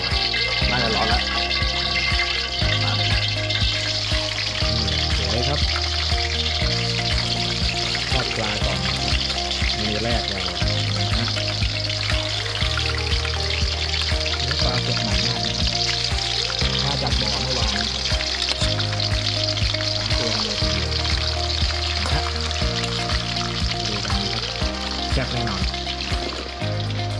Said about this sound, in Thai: ปรุงรสปลาก่อนที่จะดำเนินการทอด